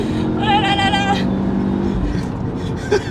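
A car engine hums steadily at close range with a tonal whine early on, while excited voices talk and exclaim over it.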